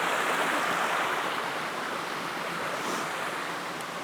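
Watui Falls roars as a continuous broadband rush of falling water, steady and fairly close, with light wind buffeting the microphone and no talking.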